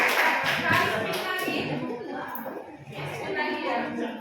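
A room of people gives a round of applause, scattered hand claps rising briefly and then thinning out, with voices and murmurs mixed in.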